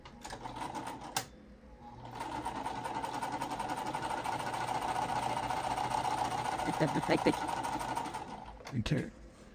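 A sewing machine stitches quilt pieces joined right sides together, a steady close mechanical whir running for several seconds between brief pauses.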